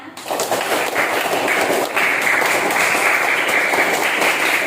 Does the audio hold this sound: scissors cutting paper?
no